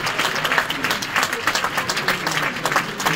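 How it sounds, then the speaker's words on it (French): A crowd applauds steadily, dense clapping from many hands filling the room for a few seconds without a break. "Applaudissez Filmo."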